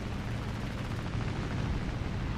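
Dense, continuous rumble of gunfire and blasts with no clear breaks, a sustained battle sequence in a flight game with Soviet aircraft, fairly steady loudness throughout.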